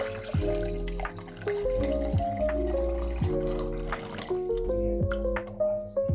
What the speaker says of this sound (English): Pour the water into the container for the yeast.